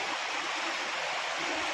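Water rushes steadily through an opened check dam at Kuzhinilam, Mananthavady, a dense continuous roar close by with no voices.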